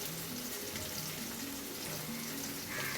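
A little water is poured into chicken with chili and spice masala cooking down in a pan, giving a soft, faint sizzle and watery bubbling heard alone.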